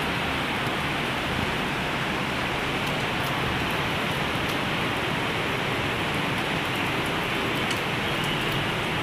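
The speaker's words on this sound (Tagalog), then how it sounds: "grabe ang ulan guys, tignan nyo guys, ang lakas-lakas ng ulan." Heavy rain pours steadily, a dense, loud hiss of downpour filling the whole clip with no breaks.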